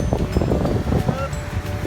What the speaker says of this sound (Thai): ตอนนี้ก็คือลมแรง